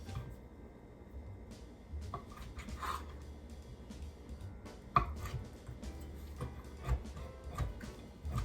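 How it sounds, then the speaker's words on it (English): A knife chopping the last few pieces of pepperoni for gluten-free pizza bites, giving a steady run of close, light taps on a board with a few sharper knocks and no talk. "I'm just going to cut up these last few pieces of pepperoni"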